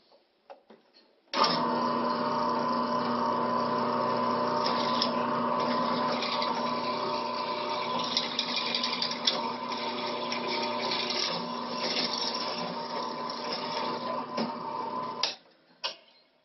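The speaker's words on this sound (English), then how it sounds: "So just drilling the hole." A power drill bores a hole through a part clamped down with a pipe clamp. The steady motor whine starts abruptly, runs about fourteen seconds with slight load changes, and then cuts off, with no talk.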